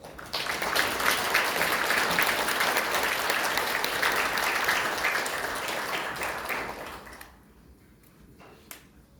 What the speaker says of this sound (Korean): 이종찬 회장님을 큰 박수로 맞아주십니다